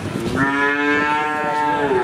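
A Fleckvieh-type bull calf at a cattle market lets out one long, loud, close moo that holds steady for nearly two seconds.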